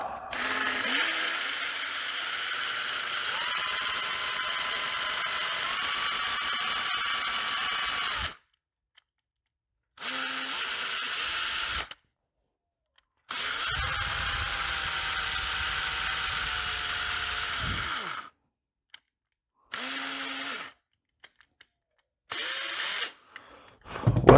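Power drill boring into wood for a 12-inch wooden glide bait, whining steadily in several long bursts separated by pauses, close and alone.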